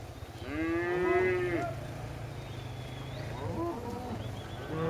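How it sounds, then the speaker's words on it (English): Cattle moo during a cattle drive on a ranch, with a long, loud, nearby bellow followed by a shorter, softer call over a low rumbling background. "There's your cattle drive."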